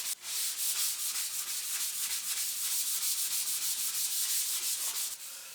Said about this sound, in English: piece of sandpaper and we're just going to give it a quick sand